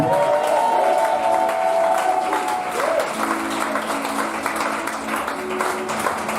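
A church congregation applauds loudly and steadily to acclaim the Lord, dense clapping filling the room from start to finish, with a held musical tone early on and a low organ-like chord entering partway through.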